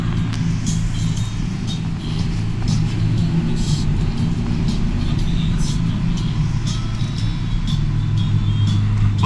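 Heavy, steady engine rumble fills the scene as a small Mitsubishi car and a jeep climb uphill behind on a rainy road to a lake, loud and continuous, with someone speaking over it.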